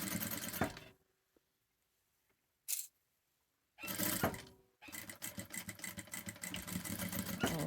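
A sewing machine runs a straight stitch along a fabric headband seam in close, loud bursts: a short run, a long pause with a few clicks, then two more stretches of rapid stitching.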